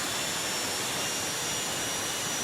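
A jet dragster roars down the drag strip at a drag racing event, a steady broadband jet-engine rush that holds at a constant distance and level for the whole moment.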